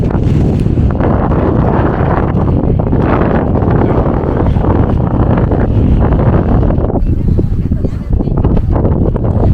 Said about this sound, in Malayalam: ഇത്രയും കാറ്റുണ്ട് ഇങ്ങോട്ട്